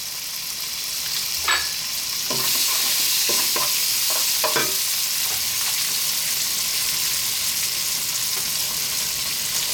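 Sliced ribeye steak with chili flakes and grated cheddar being stirred in a hot pan, a steady close sizzle running throughout with scattered scraping clicks of the utensil in the first few seconds.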